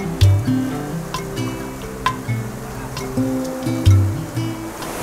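Flowing river water near a cave outlet at a Bicol campsite, a close, churning rush with irregular surging swells and splashes.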